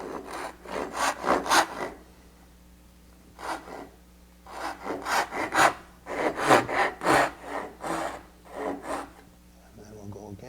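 A hand saw cuts dovetails in wood for a serving tray, giving close, rhythmic rasping strokes in bursts separated by short pauses, with no talk over them.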